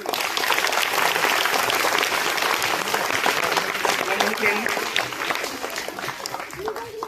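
An audience at a school children's drug-awareness skit claps loudly and continuously, with crowd voices and chatter mixed into the dense applause throughout.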